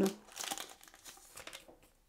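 A crinkly plastic wrapper of a Japanese trading card booster pack is handled and torn open up close, a quick burst of crumpling that tapers into softer rustles.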